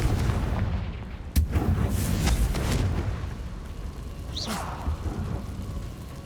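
Confringo, the fiery blasting spell in the Hogwarts Legacy video game, goes off with a sharp crack and then a sustained rumbling, crackling roar, like a nearby explosion or thunder, continuing steadily under a busy game soundscape.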